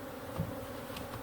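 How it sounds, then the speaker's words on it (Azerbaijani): Wild bees swarm thickly at a hive, filling the air with a continuous close, dense buzz and no voices. "İçi dolu arıdan. Ne kadar arı var maşallah."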